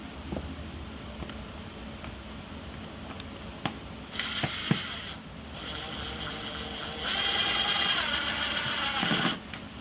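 A hand ratchet tightens bolts on a 2001 Yamaha R1 motorcycle, rapid clicking pawl bursts that grow louder and denser in the second half, close up in a quiet shop with no speech.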